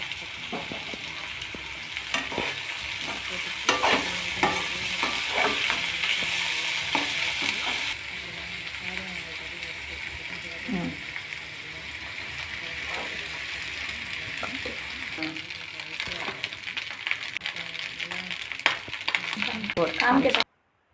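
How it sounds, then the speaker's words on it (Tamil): Green beans and chopped green capsicum sautéed in a pan, a steady frying sizzle running throughout with repeated scraping and clinking of a spatula stirring the vegetables, no talking. "பீன்ஸும் கொஞ்சம் வேகிற அளவுக்கு நல்லா வதக்கிக்கிட்டு க்ரீன் கேப்சிகம் வாங்கிட்டு வந்திருந்தேன்"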